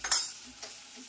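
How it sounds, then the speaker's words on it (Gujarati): A brief sharp sizzle as cumin seeds, turmeric and salt hit hot oil for tempering a mung bean curry, followed by a softer crackle and faint stirring. "સરસ મજાનો વગનો વઘાર થઈ ગયો છે"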